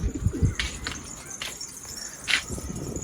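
Pigeons coo repeatedly at close range, low rounded calls recurring through the short stretch, with brief wing flaps and chirps mixed in and no talking.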